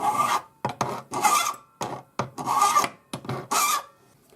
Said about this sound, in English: you can just use your flat Swiss No. 2 cut hand file for these